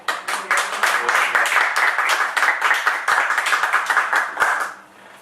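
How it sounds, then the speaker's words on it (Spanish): Conference audience in Zaragoza clapping for a storytelling talk, a lively, close burst of applause with distinct individual hand claps that stays full for about four seconds and then fades out. "quisiera darle un aplauso a un chaval que hay detrás que se llama Miguel"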